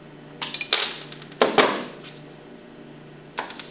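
A screwdriver taps out the seal key on a Hypro centrifugal pump during servicing, giving a few short, sharp metallic clicks and knocks in small bursts with pauses between them, close and fairly quiet.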